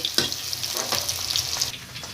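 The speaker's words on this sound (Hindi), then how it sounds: "जब तक प्याज भून रहेंगे तब तक मसाला मिक्स कर लेते हैं" Onions sizzle and crackle in a hot pan, a steady frying hiss with occasional stirring scrapes, close up.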